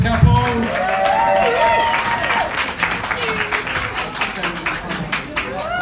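Guests applauding a couple at a 50th wedding anniversary party, sustained clapping across the room with overlapping voices and some music.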